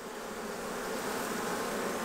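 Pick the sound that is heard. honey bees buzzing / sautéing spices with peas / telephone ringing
honey bees buzzing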